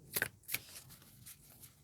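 Oracle cards riffled in a rainbow shuffle, two quick crisp bursts of flicking card edges near the start followed by softer, fainter rustles, close and quiet with no talking.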